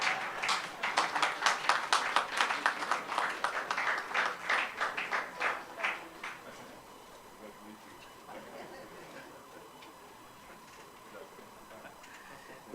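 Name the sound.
audience clapping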